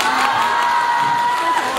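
An audience at a film press conference and fan meeting bursts into dense, sustained applause mixed with cheering and whoops, a loud continuous crowd roar filling the room.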